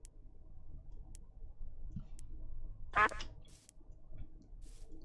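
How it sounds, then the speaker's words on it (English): A duck quacks in a video game: one loud, close, raspy quack bursts out alone amid quiet background hum, followed by faint clicks. "Your quack is very aesthetically pleasing."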